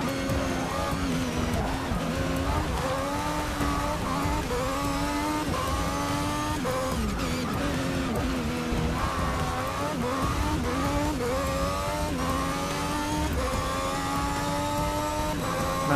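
A Lotus Formula One car engine at Monza in Forza Motorsport 6 screams continuously at high revs, pitch rising and dropping with rapid gear changes, loud and steady throughout.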